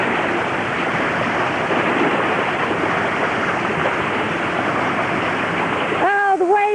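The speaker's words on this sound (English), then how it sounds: "Oh, the waves are coming in. The big waves." Big ocean waves roll in and wash up on a shore, a loud steady roar of surf lasting several seconds, and a voice speaks briefly right at the end.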